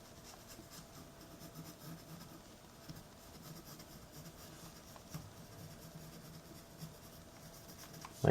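A sheet of paper being creased and folded into an origami heart bookmark, soft close rubbing and scraping of paper with light taps, steady and quiet throughout, ending in a sharper rustle.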